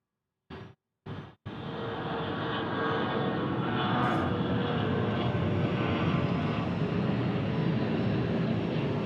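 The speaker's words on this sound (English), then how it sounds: "CRJ for Delta Airlines taking off." A Delta Airlines CRJ regional jet takes off at Memphis International Airport, its engine roar rising after two short bursts and then holding as a steady, loud broadband rumble.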